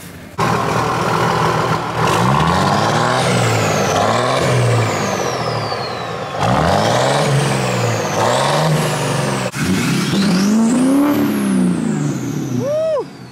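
A 6.0-liter diesel truck engine revs hard in repeated rising and falling sweeps, loud and close, with a steady rumbling idle between the bursts.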